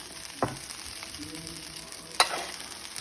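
Stir-fried rice sizzles in a hot pan, a soft steady frying hiss broken by two sharp scraping clacks of stirring.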